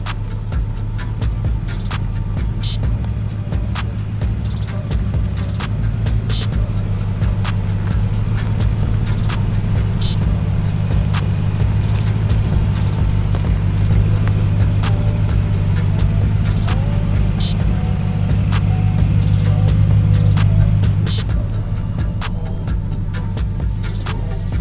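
Vans driving slowly down into a small bush clearing near Western Australian dams and tracks, a steady low engine rumble close by with faint rattles and clinks, lasting throughout without speech.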